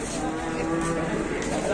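A large cow moos steadily, a low sustained bellow close by with farm background noise beneath it.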